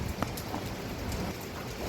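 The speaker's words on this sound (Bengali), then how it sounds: "এই যে প্রচণ্ড হাওয়া হচ্ছে আর সঙ্গে বৃষ্টিও হচ্ছে প্রচণ্ড, আর ঝোড়ো হাওয়া বইছে" Heavy rain and strong gusting wind from Cyclone Remal, a dense steady hiss of rain pattering on surfaces with a few sharper drops, fairly faint and unbroken, with nobody speaking.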